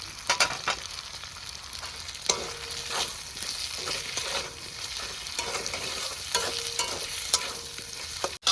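Pre-fried potatoes tumble into hot oil with onion, garlic and ginger, a continuous sizzle broken by repeated scraping stirs and clinks of a utensil against the pan, close and clear without voices.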